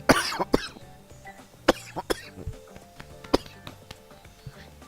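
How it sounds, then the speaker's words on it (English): Repeated harsh coughs burst out in a fit, several sharp hacks in quick succession followed by more scattered coughs, close to the microphone. "I am having a coughing fit left and right"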